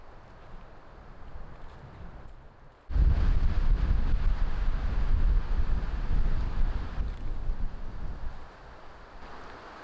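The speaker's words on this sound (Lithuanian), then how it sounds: "Ir vėjas pučia." Wind by a small forest lake starts as a low rush, then a sudden strong gust roars loudly into the microphone for several seconds before easing slightly, with no talking.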